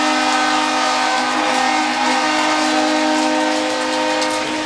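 The RPI hockey goal horn blasts after a goal, a loud, sustained, steady tonal honk rich in harmonics that fills the arena without a break.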